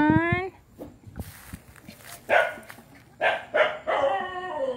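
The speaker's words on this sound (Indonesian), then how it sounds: "Jangan gonggong." A pet dog barks and yips at home, several sharp barks in bursts with pauses between, close by, while someone talks nearby.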